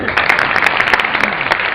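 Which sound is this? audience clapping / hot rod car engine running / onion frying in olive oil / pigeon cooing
audience clapping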